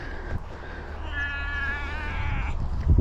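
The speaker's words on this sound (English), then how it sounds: "we've got the squawky cat here again" A cat lets out a long, drawn-out, raspy meow close to the microphone over a steady low background rumble.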